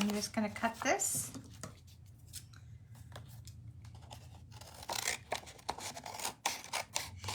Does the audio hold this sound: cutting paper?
yes